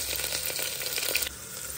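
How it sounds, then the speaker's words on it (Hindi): Onions and garlic paste sizzle steadily in a pan, a close, even crackle of frying with a faint stir, lasting under two seconds without speech. "ये प्याज को फ्राई करते हैं थोड़ा सा लहसुन का पेस्ट डाल के"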